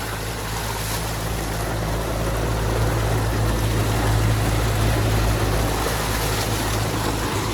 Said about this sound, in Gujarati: બોટ ચાલુ છે